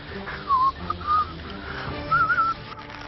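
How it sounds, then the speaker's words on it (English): A man whistles a few short nervous phrases in bursts while perched high up on a rope in the wild, thin and close over faint outdoor background noise. "because I start to whistle when I'm nervous."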